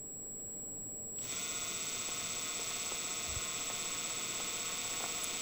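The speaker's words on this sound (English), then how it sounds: "I'm going to go backwards just for a little bit to somewhat bevel the corner of that hole" A drill motor spins up and runs in reverse, briefly beveling the corner of a hole for a Smith & Wesson front sight: a steady, loud mechanical whine with a droning hum that starts abruptly and holds constant, with no talk.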